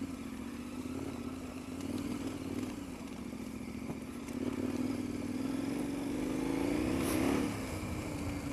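A KTM 1090 Adventure R motorcycle crawls slowly up a steep, rough slope, its engine a steady low drone that swells slightly partway through, with light clatter from the rocky ground.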